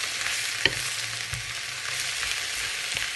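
Spinach and cheese filling seasoned with salt and black pepper sizzles steadily in a pan, with a sharp tap of a utensil early on and soft stirring scrapes throughout, all close and without speech.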